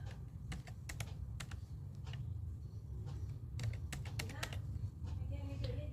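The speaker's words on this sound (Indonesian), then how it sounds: "ketik password." A password typed on a computer keyboard during an operating system setup, with close, irregular bursts of crisp key clicks over a low background hum.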